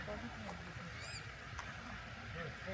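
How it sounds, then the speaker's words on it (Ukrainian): A baby poultry chick squeaks in thin, high, brief peeps near the chicken coops, over a steady, busy farmyard background with low bird calls and people talking. "а воно її пташенятко вищить"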